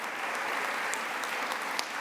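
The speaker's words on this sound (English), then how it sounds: "a round of applause" An audience applauds steadily at an event marking the fourth anniversary of the Let's Move! campaign, a dense, even wash of many hands clapping at moderate volume for about two seconds.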